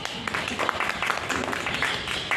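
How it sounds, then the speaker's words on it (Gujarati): An audience claps together at a health session, a dense burst of hand claps lasting a couple of seconds, close and fairly loud, with voices mixed in. "આમના માટે પહેલા બધા તાળી પાડો"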